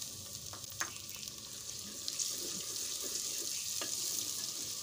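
Tomatoes frying in onion masala in a pan for gobhi matar, giving a steady soft sizzle with occasional light stirring clinks throughout.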